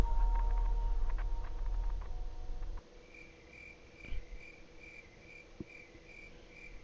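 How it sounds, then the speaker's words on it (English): Crickets chirp in a steady pulsing rhythm after louder music fades out, fairly clear against a quiet background with a couple of soft knocks. "Nice crickets in the background."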